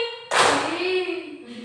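Classroom group clapping during an AI basics on-the-job training session, a short burst of claps starting abruptly and continuing through a nearby speaking voice.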